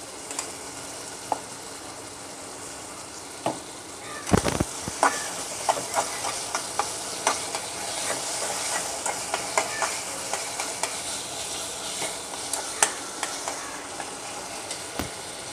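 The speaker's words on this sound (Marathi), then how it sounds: "टमाटर व्यवस्थित असं परतून घ्यायचं आहे। त्याच्यामध्ये आलं लसूणची पेस्ट टाकते।" Tomatoes with ginger garlic paste frying in a pan for dry chicken masala, a quiet ongoing sizzle broken by repeated spatula scrapes and clicks, with a louder clatter near the start.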